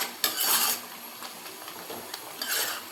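Onions sautéed in a pan for a vegetable biryani gravy, with a metal spoon scraping and clinking against the pan in short bursts, close and fairly loud, with no voices.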